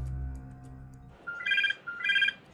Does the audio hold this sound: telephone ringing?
yes